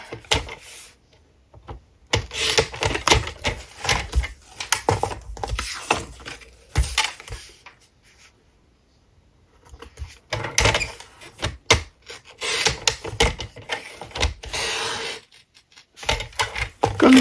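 Material for an Advent calendar being cut in several bursts of crisp scraping and snipping, close and moderately loud, with short quiet gaps between passes.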